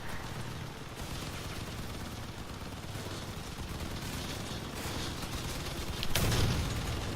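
Sustained automatic gunfire rattling against a player's armored vehicle in the Crossout vehicle combat game, steady and dense throughout, ending in a heavier burst of impacts near the end.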